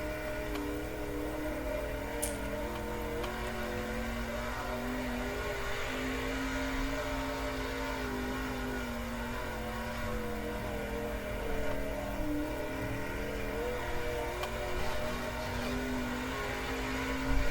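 A sprint car engine drones steadily through a practice lap in the World of Outlaws racing game, a continuous mid-level tone with slight pitch shifts and no talk over it.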